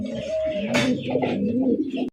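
A pair of Bombay pigeons coo close and loud, a steady rolling throaty coo running continuously for about two seconds before cutting off abruptly.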